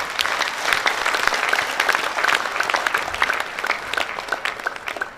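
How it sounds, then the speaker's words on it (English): Applause for a presenter at a technical conference session: a sustained crowd of hands clapping at close range, loud and even for about five seconds, with individual sharp claps standing out and no speech over it. "the presenter deserves a better round of applause"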